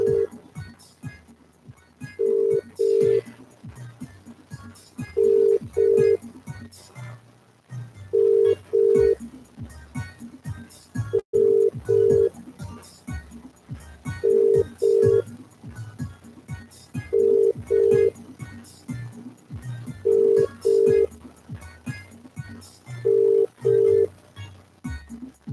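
A telephone rings again and again during a call that nobody answers. The ring comes back in regular paired bursts over a steady line tone, loud and close, with no voices.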